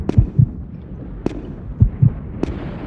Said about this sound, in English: we've got the heartbeats as we're going up the stairs here to make you freak out a little bit